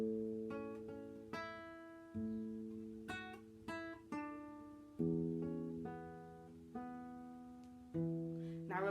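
The opening four bars of a Grade 2 piece on guitar, with the thumb finger-picking open strings under plucked notes. Clear, evenly spaced notes ring and decay, quiet and close, with no talking.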